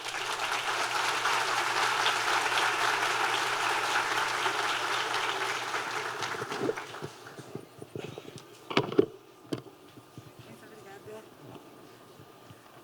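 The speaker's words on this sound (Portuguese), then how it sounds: "Vamos aplaudir Monja Coen." Audience applause for a guest speaker, Monja Coen, at a closing lecture, steady and dense for about six seconds before thinning out into scattered claps and quiet room noise.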